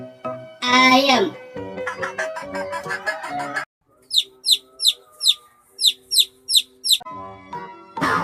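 A chicken clucks in a rapid series of sharp, evenly spaced calls, preceded by a voice and a bright musical jingle.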